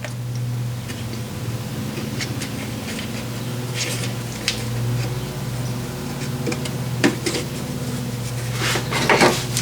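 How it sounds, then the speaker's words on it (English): A hose is worked free of its clamp on a Nissan Murano engine, giving a few sharp plastic clicks and taps over a steady low hum. "This hose, carefully pull it out of the clamp."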